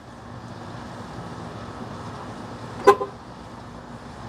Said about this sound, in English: Watch how quickly it'll lock itself.